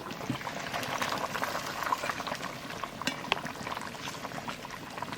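Large hilsa fish simmering in a pot of water with an egg, a busy bubbling and sizzling with irregular pops and crackles, steady and close throughout.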